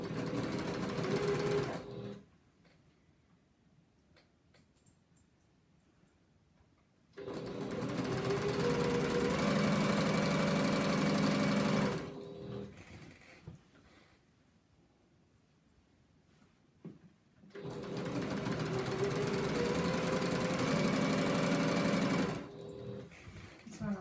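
A domestic sewing machine stitches binding through three layers of a quilt at a half-inch seam allowance, running in three long steady whirring bursts separated by pauses of near silence, loud and close.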